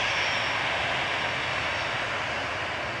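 An easyJet Airbus A320 jet at Manchester Airport gives off a steady, broadband engine roar that holds at an even level for the whole stretch, with no voices over it.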